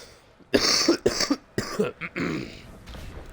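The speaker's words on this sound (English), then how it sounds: "I'm about to cough." Several harsh coughs in quick bursts, close and loud, followed by a rougher throaty cough, with a quiet pause in between.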